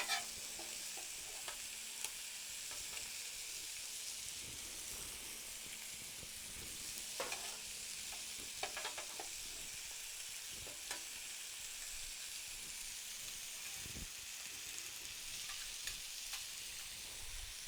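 Asparagus and sweet peppers sizzle steadily on a low-heat griddle, a faint continuous frying hiss broken by occasional scraping and clicking of a utensil.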